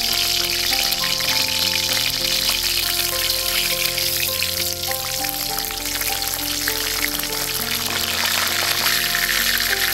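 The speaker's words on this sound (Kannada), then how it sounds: "ಈ ಎಣ್ಣೆ ಸ್ವಲ್ಪ ಕಾದ ನಂತರ ಮೊದಲಿಗೆ ಸಾಸಿವೆ ಮತ್ತು ಜೀರಿಗೆಯನ್ನು ಹಾಕ್ತಾ ಇದ್ದೀನಿ." Mustard seeds and cumin sizzle and crackle in hot ghee and oil, a loud, dense, steady frying hiss with continuous popping and no talking.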